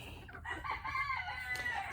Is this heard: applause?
no